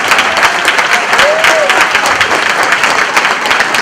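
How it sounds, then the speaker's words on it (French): An audience at an evening event in a hall applauds loudly, dense sustained clapping with a brief whistle-like tone and murmurs of voices mixed in, steady for the whole stretch. "s'il vous plaît, de me donner un applaudissement."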